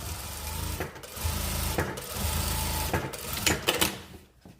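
A sewing machine runs a 0.5 stitch line on a sailor-collar dress pocket, its steady mechanical whirr broken by short pauses between bursts and rising into brief rapid clatter near the end.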